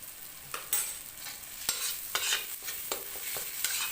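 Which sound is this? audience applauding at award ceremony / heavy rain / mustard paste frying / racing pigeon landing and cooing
mustard paste frying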